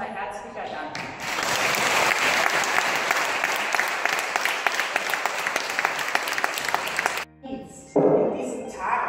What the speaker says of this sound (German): Deshalb erstmal euer Applaus und unser herzlicher Dank.